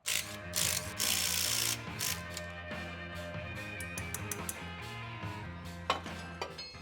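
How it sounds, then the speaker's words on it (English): Ratchet wrench loosening U-bolts on a leaf-spring rear axle held up by a jack, with rapid pawl clicking in bursts, loud up close, with metallic clanks and no talk. "take off these U-bolts and take out the block"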